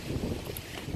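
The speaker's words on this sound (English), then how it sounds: "I told you it was really windy." Strong outdoor wind buffets the microphone in a low, rumbling, gusty roar that stays loud and continuous for the whole second.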